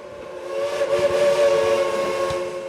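Antique steam train whistle at Cass, West Virginia, sounding one sustained, steady blast of layered harmonic tones that swells slightly mid-way and holds loud, with faint rumble beneath.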